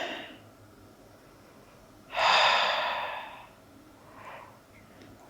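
Breath sounds during a yoga leg stretch with a strap, one loud close exhale lasting over a second, followed by a softer, fainter breath, over quiet room noise.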